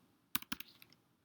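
A brief burst of typing on a computer keyboard, with a handful of faint, quick key clicks clustered in about half a second, close and quiet.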